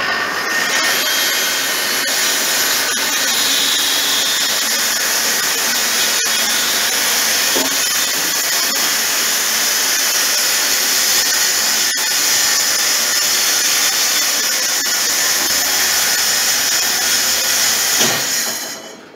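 A power saw rips loudly and continuously through the end of a wooden conference table being converted to a dining table, a close, sustained roar that cuts off abruptly at the end.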